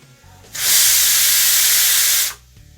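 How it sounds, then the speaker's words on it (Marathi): Steam released from a pressure cooker after three whistles bursts out as a loud, steady hiss for about two seconds, then cuts off abruptly. "आता इथे कुकरला मी तीन शिट्ट्या घेतल्यात याच्यामधली वाफ आपण काढून घेऊ"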